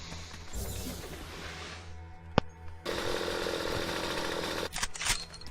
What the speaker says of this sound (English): Because the chainsaws are really high damage melee weapons.